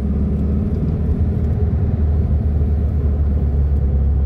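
A 1967 VW Beetle with a poorly tuned carburettor, heard from inside while driving: a steady, loud air-cooled engine drone and road rumble that runs continuously with no talk.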